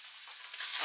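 A thin ribeye steak sizzles and fries in a hot pan, a steady close hiss that grows slightly louder toward the end, with no talking.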